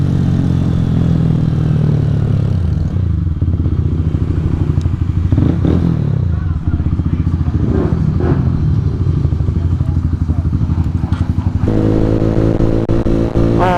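Honda CBR 125 motorcycle engine running steadily while riding, a loud continuous drone with shifting pitch, occasional clatter and thumps, and a rev change near the end.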